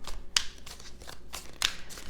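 A deck of tarot cards is shuffled by hand in a steady run of riffling and sliding bursts, with two sharper snaps standing out, close up and with no talking.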